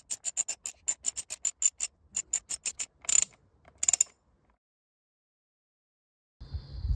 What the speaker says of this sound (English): we've got the socket, the ratchet